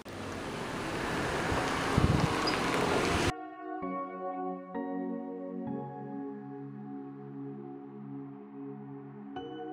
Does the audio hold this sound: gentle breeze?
yes